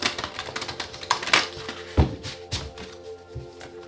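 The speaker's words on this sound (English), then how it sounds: "Okay, 2 more shuffles." A deck of tarot cards being shuffled by hand, a rapid series of papery taps and riffling flicks with a few sharper slaps, close and fairly quiet with no talk.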